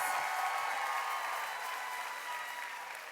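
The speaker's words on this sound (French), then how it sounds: "On applaudit bien fort les pommes de Rennes School of Business." Steady applause from a large crowd at a business school graduation ceremony, sustained clapping that fades slightly toward the end, with no voices standing out.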